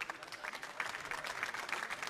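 A darts crowd at the PDC European Championship applauds a top throw, a steady wash of clapping heard from some distance with a faint murmur underneath.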